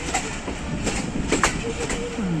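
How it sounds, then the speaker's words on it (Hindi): The Jaffar Express rolls along a single-line track in Pakistan, with a steady rumble of wheels on rails, rhythmic clicks from the rail joints and a faint metallic squeal, close and continuous, and voices murmuring beneath. "सिंगल लाइन क्रॉस के बाद ट्रेन आगे बढ़ते हुए"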